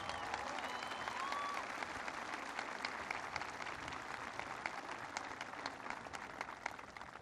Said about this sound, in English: I want you guys to give her a big round of applause